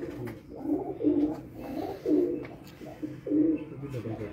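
Pigeons from a rooftop building loft cooing in a steady, repeated rhythm of low throaty phrases, close and clear, with faint talk in the background.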